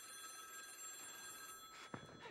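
A telephone rings on stage during a musical theater performance, heard from the audience at a distance, with steady hall noise and a small bump near the end.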